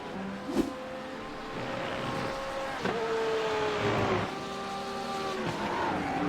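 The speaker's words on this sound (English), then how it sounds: "Lays down some rubber and fires that car forward again." A GT3-class race car at Donnington accelerates hard out of a corner with a little tyre squeal, engine note climbing through several gear changes, loud and steady.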